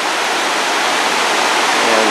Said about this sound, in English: Some more of the falls obstructed by foliage.